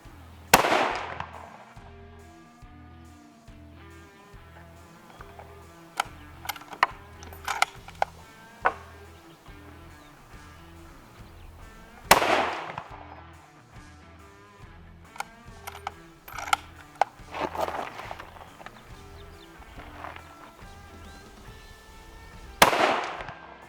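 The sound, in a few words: rifle gunshots at a shooting range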